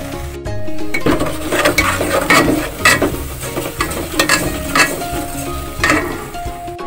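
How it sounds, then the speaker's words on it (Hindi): Maida (plain flour) roasting in a pan with crushed red chilli for a white sauce pasta, with steady stirring scrapes and soft sizzling under repeated clinks of a utensil against the pan, close and fairly loud. "मैदा मैंने भून लिया है"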